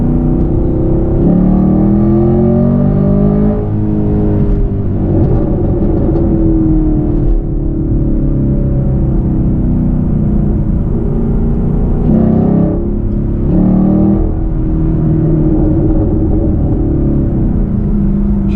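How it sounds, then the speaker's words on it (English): A 2020 Chevrolet Camaro SS 1LE with a K&N intake revs hard at high RPM, its loud exhaust roaring and rising, then settling back, with a steady rumble throughout and no talking. "Something on that exhaust kind of sounds funny at high RPMs."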